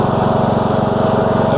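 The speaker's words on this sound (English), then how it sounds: "Engage the mower." A riding lawn mower fitted with ATV tires runs in swampy mud, its engine a loud, close, steady pulsing drone throughout.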